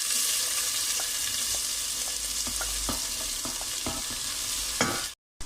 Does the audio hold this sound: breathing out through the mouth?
no